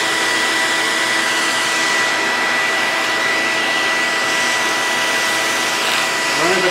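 A vacuum cleaner runs loud and steady the whole time, its nozzle drawing dirt from a car's engine air filter, a constant whining roar with a faint shift near the end.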